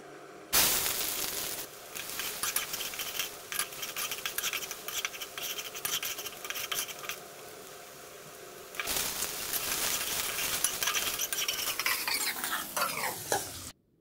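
Potatoes sizzle in hot oil while a utensil repeatedly scrapes and stirs the pan, the frying steady and close throughout.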